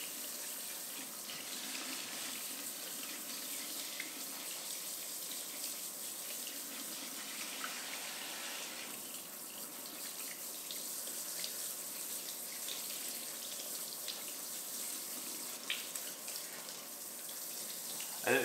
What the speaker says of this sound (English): And we're just gonna go ahead and rinse it all off.